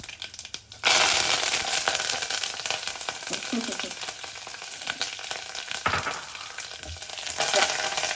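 Curry leaves hit hot oil and fry with a sudden loud burst of crackling sizzle that stays steady and close, dotted with sharp pops and spatters.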